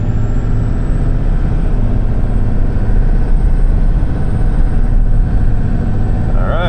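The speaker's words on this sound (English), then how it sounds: "There's a nice clean shift" A truck transmission shifting gears, heard as a steady loud drone of engine and drivetrain with a smooth change near the end, close and continuous with no talk.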